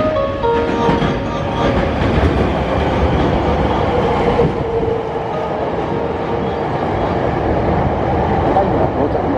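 Hankyu Kyoto Line limited express train pulling into Takatsuki-shi station, a loud continuous rumble of wheels and cars close by, with brief squeals and clatter, under a station announcement voice.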